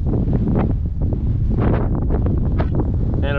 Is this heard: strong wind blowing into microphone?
yes